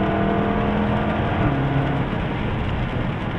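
A 2017 Jaguar F-Type SVR roars at high revs on a racetrack, its loud engine note steady and close throughout, with no pauses or talk.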